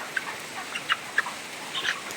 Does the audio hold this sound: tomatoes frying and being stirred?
no